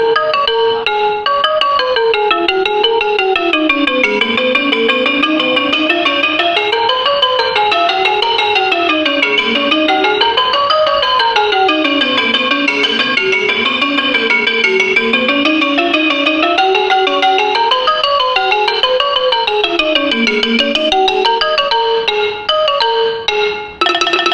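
A Thai ranat xylophone over 127 years old, played with hard mallets, gives a hard, bright attack in a continuous rippling melody of quick repeated notes, loud and up close throughout.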